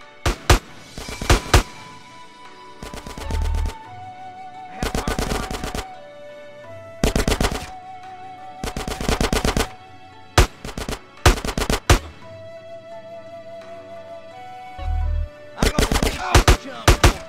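Bursts of gunfire in GTA San Andreas, mixing rapid automatic volleys and single shots in repeated loud clusters across a firefight, with a musical score running underneath.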